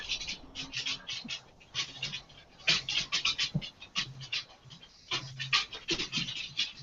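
A dog pants close by in quick, rhythmic breaths that come in bursts with brief pauses at bedtime indoors.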